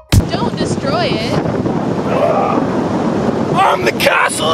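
Wind buffets the microphone on a beach in a continuous roaring rumble with gusty bursts, and a voice speaks over it now and then.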